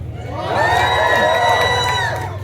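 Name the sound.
crowd cheering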